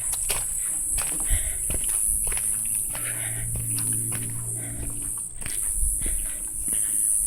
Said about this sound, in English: You can hear more of those cicada bugs.